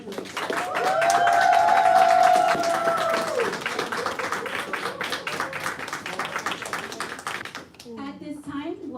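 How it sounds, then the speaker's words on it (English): Audience applause at a graduation ceremony for media school graduates, a broad wash of clapping under a continuous loud announcer's voice, swelling early then steady before tapering off near the end. "Please give a round of applause to all our graduates."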